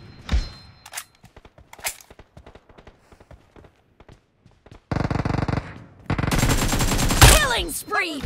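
Gunfire in the mobile battle royale game PUBG Mobile on the Santorini map: scattered single shots and short bursts at first, then loud sustained automatic fire with dense overlapping shots and a few heavy booms.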